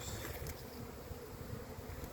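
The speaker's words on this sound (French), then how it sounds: "Du vent en plus." Outdoor wind buffets a microphone in a garden at harvest time, making a steady, loud, low rumble with gusty fluctuations that continues throughout.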